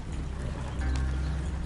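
Horse hooves clip-clop steadily in a PS4 video game, a quick, even patter of footfalls over a dense game soundtrack bed.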